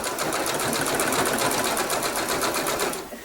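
Sewing machine running fast and steady while blanket-stitching a quilt binding, a close, continuous rhythmic needle chatter that slows and stops at the very end.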